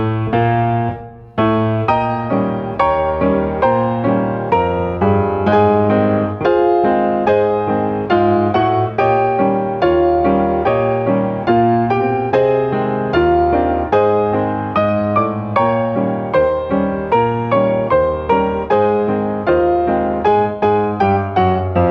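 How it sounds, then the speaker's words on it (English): Piano plays the second strain of the Maple Leaf Rag in a straightened, unsyncopated rhythm, steady even chords and bass notes continuing loud and clear throughout with no voices. "If I were to play the second strain of the Maple Leaf Rag without syncopation, it would sound like this."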